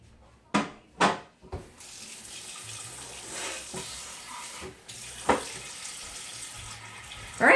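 Hot water runs from a tap in a steady rush after a couple of sharp clanks, with a few more knocks and splashes along the way.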